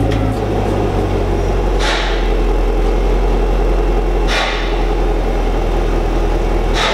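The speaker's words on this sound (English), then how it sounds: "Take a listen to how she sounds at the exhaust" A Chevrolet Camaro SS V8 with factory dual-mode exhaust rumbles loudly and close at the tailpipe, a deep steady burble with three short sharp rev blips spaced a couple of seconds apart.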